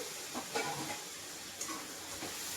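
Dry spices sizzle quietly in a pan with a little oil after a sprinkle of water, a low steady hiss with a few soft scraping taps from stirring.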